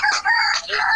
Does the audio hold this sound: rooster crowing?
yes